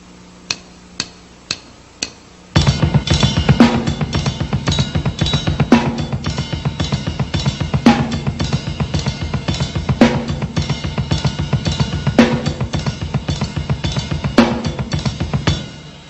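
Slow heavy metal drum lick played on a full drum kit: a few sharp hits open it, then a steady, loud pattern of kick, snare and cymbals with heavier accents about every two seconds, close and dry.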